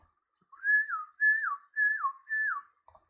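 Recorded whistling in a four-part up-and-down pattern, each swoop rising then falling, evenly spaced with short gaps, clear and close in an otherwise quiet room.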